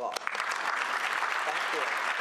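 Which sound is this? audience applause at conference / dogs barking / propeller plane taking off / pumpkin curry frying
audience applause at conference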